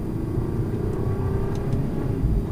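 A 2019 BMW X2 accelerating in second gear in Eco Pro mode, heard as a loud, steady engine drone and rumble from inside the cabin, with no one speaking.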